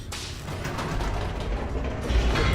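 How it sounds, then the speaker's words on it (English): An elevator mechanism in The Stanley Parable video game descends slowly with a steady grinding mechanical rumble, faint creaks and rattles layered on top, continuous and fairly loud with no talk. "Elevator going down slowly."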